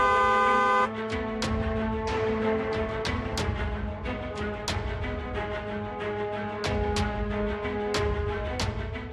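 A vehicle horn honks in a steady tonal blast, then dense, rhythmic, music-like tones continue throughout at an even, loud level with no talk.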